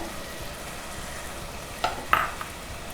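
Tomato and garlic paste with turmeric and salt cooking down in oil, giving a low, steady sizzle with a couple of brief utensil clinks near the end.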